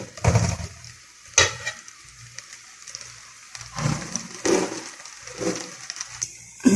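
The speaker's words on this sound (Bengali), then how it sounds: "দেখুন আমার পেঁয়াজগুলো ভাজা হয়ে গেছে।" Onions fry in a pan with a soft, continuous sizzle, broken by several louder scraping stirs of a utensil against the pan.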